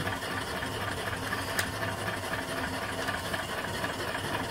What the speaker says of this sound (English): here's my next engine and boiler